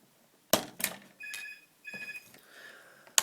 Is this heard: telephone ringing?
yes